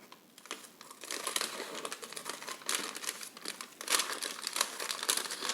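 Fabric being cut for a six-gored skirt, heard as crisp, crinkly snips and rustles of cloth and paper pattern, close and fairly quiet, coming in uneven bursts with no talking.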